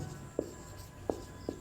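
A pen scratches on paper in three short, faint strokes during a class 10 maths lesson, with quiet room tone between them.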